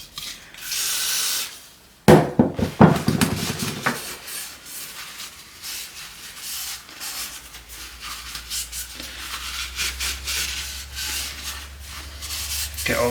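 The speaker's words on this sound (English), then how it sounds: "Get all this dried up old rubbish grease out." A rag rubs and wipes dried old grease from the headset bearings of a free scooter, close scraping and scrubbing strokes in an irregular rhythm after a brief burst of noise, with no talk.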